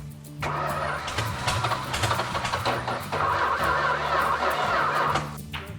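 A Dodge Super Bee Six Pack V8 cranks over with a rhythmic starter churn, catches, and settles into a loud, rough idle close by.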